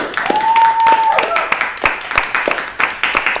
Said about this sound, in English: Big round of applause for D. Martin Austin